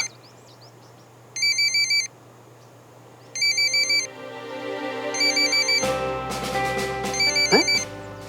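A phone rings in short repeated electronic bursts, a steady beeping ringtone that cuts in and out several times over a quiet indoor background.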